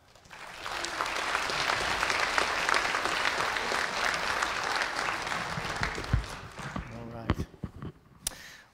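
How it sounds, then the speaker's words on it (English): A church congregation applauds families at a child dedication service, with full, sustained clapping that builds and holds for several seconds, then fades as a voice starts speaking near the end. "I want to give this group a round of applause."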